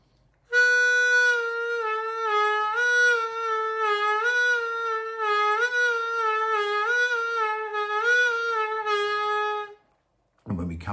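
Blues harmonica notes on channel 3, sustained and bent down and back up through several pitches in a steady wavering line, played alone and close for about nine seconds before stopping.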